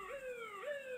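A video game police siren wails in repeated rising and falling sweeps, fairly faint and steady, with no voices.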